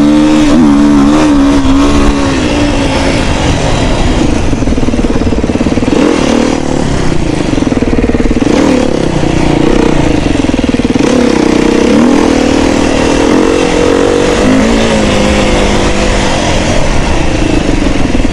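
A Honda motorcycle engine drones loud and close while riding, a continuous rough roar that shifts slightly in pitch as the throttle changes, with no voices.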